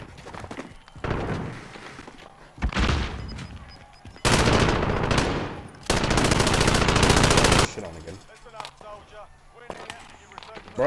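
Light machine gun fire in Call of Duty Warzone, several sustained loud bursts of rapid automatic shots separated by short gaps, with a voice speaking between bursts.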